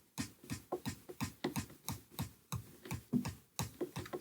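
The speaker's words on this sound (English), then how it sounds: "You might be able to hear me tapping the pad in the background" Light, quick tapping on a rubbery electronic drum pad with its Yamaha DTX Pro module muted: a steady run of dull clicks, roughly three or four per second, close and fairly quiet, with no other sound.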